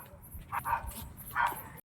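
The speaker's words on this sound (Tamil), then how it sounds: "அங்கே நாய் சவுண்டெலாம் கேட்குது." Dogs bark in a forest: two short barks, one after the other, at moderate distance over a low background hiss.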